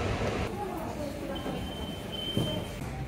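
A Paris Métro line 3 train rumbles along with a rolling underground roar and a thin high squeal of wheels, while people talk over it.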